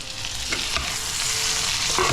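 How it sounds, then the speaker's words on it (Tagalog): Sliced Vienna sausage frying in a pan, a steady close sizzle with occasional scraping stirs of a utensil against the pan. "Sabay ko na rin sa prito para medyo magkaroon siya ng"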